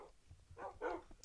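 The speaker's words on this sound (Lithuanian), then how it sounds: "Ai va, čia vilkų banda." Wolves from a pack in the Minecraft video game give a few short, close barks and yips in quick succession, ending with a brief high whine.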